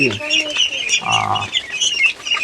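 Fayoumi chickens in a laying farm, a flock clucking and chirping in a dense continuous chorus close by, with a brief louder call in the middle.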